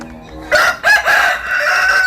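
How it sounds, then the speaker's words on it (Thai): A rooster crows once, loud and close, in a drawn-out cock-a-doodle-doo that follows a short, quieter lead-in. "เพราะว่าไก่มันขัน"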